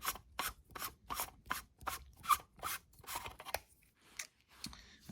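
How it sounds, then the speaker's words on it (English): Threaded metal parts of a Savi's Workshop Elemental Nature lightsaber hilt being unscrewed, a close series of regular rasping, scraping twists, about eight strokes, then a few scattered scrapes and rubs. "So I'll go ahead and just unscrew these."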